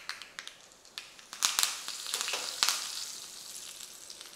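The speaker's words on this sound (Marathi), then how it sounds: "आणि घालायचा आहे कढीपत्ता." Curry leaves dropped into a spoonful of hot oil with crackled mustard seeds and asafoetida for a tempering on coconut chutney, giving a steady close crackling sizzle with sharp pops.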